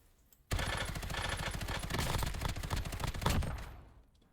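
The FJX Horus submachine gun fires in a video game, one loud, sustained burst of rapid automatic fire lasting about three seconds before fading out, heard alone.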